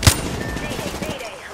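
Gunfire in Apex Legends, one sharp near shot at the start followed by a rattling spray of quieter rapid shots.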